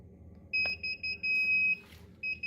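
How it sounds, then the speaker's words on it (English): An Inkbird Wi-Fi temperature controller's alarm beeps in a high, piercing tone: quick short pulses, then one long sustained beep, then more pulses after a pause. "That's what the alarm would sound like."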